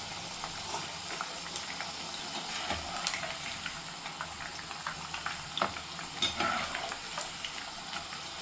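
Dragon chicken pieces deep-frying in hot oil, giving a soft continuous sizzle and bubbling with light crackles and occasional stirring sounds, fairly quiet throughout.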